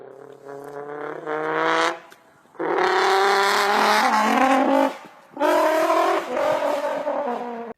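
A modified Honda Civic's loud engine revs up in three rising bursts separated by brief drops, its raspy aftermarket exhaust note climbing in pitch each time.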